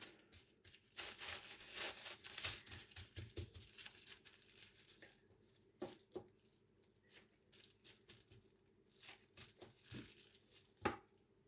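Close crinkling and rustling of a plastic freezer bag holding garlic being pressed flat by hand, with irregular soft crackles and brief pauses.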